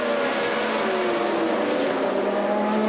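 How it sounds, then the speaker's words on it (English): Formula One race cars from 1981 scream past at the Austrian Grand Prix, a loud, sustained high-revving engine wail with shifting pitch as several cars go by together, filling the whole stretch without any voices. "Over the skyline they come, and chasing them in sixth and seventh places, Jones and Reutemann in the two Williams cars"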